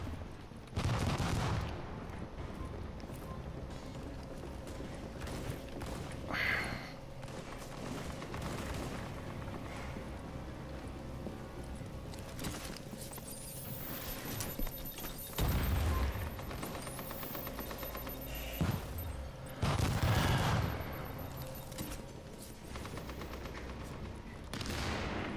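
Heavy machine guns fire in The Division, sustained rattling bursts that swell and fade repeatedly across the scene at moderate distance, with scattered louder blasts among them.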